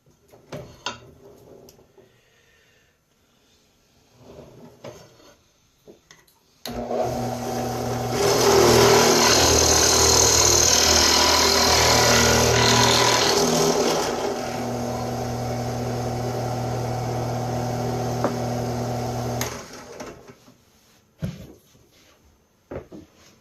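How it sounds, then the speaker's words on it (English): A Dremel rotary tool mounted on a drill press, fitted with a 1/8-inch bit, drills a draw hole into a wooden pipe. It starts abruptly with a loud, steady whine and grows louder for several seconds, then eases to a lower hum before cutting off, with soft handling clatter before and after. "For the draw hole, I use a Dremel that's set up on a drill press using an 1/8 of an inch bit."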